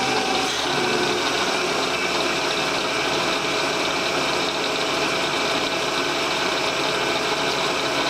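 A lathe spins steadily during a steady rest build, giving a constant motor hum and whir with some vibration, close and even throughout, with no talking.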